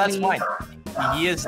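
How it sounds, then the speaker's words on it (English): A Corgi barks and whimpers in short yips close to the mic, mixed in with people talking over it. "the Corgi is, you know, also voicing the displeasure towards Skellige."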